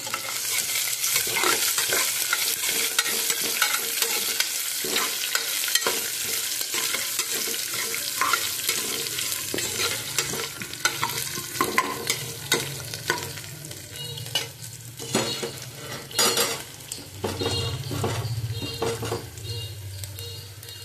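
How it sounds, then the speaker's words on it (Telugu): Garlic and dried red chillies stirred into a tempering in a pan for moong dal khichdi, loud sizzling with repeated scraping strokes of a spoon against the pan, no talking. "ఎల్లుల్లిపాయలు, వెండిమిరపకాయలు వేసుకొని బాగా కలిపేసుకోవాలి."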